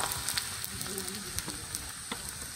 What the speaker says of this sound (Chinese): 油热放入姜蒜末